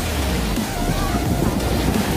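Pacific Ocean surf at Siargao island makes a continuous loud wash of waves with wind buffeting the microphone, close and steady.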